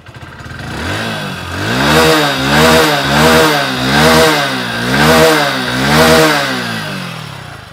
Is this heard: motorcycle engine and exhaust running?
yes